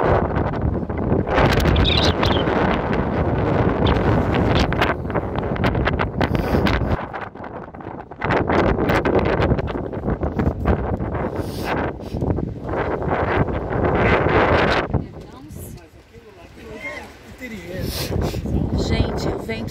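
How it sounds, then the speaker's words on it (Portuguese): Strong wind at a seaside fort, the São Miguel Arcanjo fort in Nazaré, buffeting hard against the microphone in loud, gusty roars that ease briefly before returning, with a person talking at times. "o vento tá tão forte que arrancou meu boné da cabeça"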